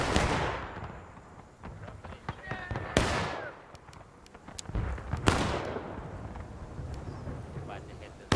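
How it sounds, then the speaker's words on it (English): Gunfire in a video game battle, with two sharp, loud gunshot cracks echoing and decaying over a rumbling background, plus fainter distant pops scattered throughout. "I heard a gunshot to our left."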